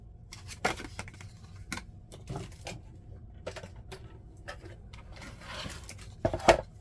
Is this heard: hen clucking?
no